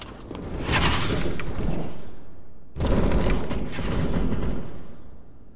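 Dense automatic-rifle spray from CS:GO, two sustained bursts of rapid shots with a brief gap between them, loud and close, with no talking.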